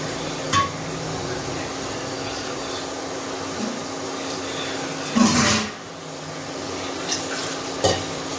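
Goat intestines cooking in a pan with ground masala stirred in: a steady low sizzle and hum, broken by a few scraping stirs and clanks, loudest around the middle.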